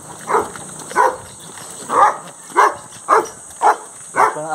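A dog barks seven times in a steady, evenly spaced series, moderately loud at middle distance over a faint constant background hum.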